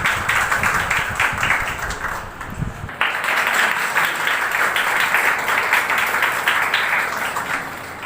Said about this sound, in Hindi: स्वागत की इस कड़ी को जोरदार तालियों के साथ आपकी स्वागत करें।